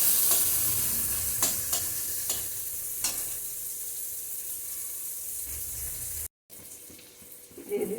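Chopped tomato dropped into hot oil with frying spice masala, a steady close sizzle with a few scraping clicks of a spoon, fairly quiet, with a brief dropout near the end.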